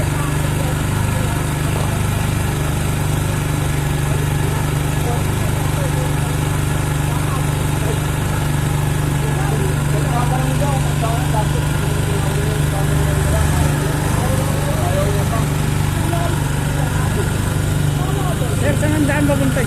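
A motorcycle idles steadily while being parked, a constant engine hum that runs throughout.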